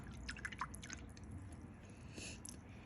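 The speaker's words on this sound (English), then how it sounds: "then we're gonna wash that brush off." Paint brush swished and rinsed in a water jar during a watercolor session, a few quiet drips and soft wet squishes close by, faint and brief with no talking.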